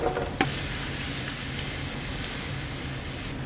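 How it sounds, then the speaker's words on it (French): Butternut squash discs sizzle in generous olive oil in a hot frying pan: a loud, continuous close frying hiss with a brief knock near the start. "quand la poêle est bien chaude, donc on verse les disques de butternut"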